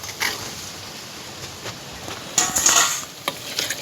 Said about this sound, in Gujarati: આપણું ચૂરણ નખાઈ ગયું અને થોડુંક હલાવી નાખીએ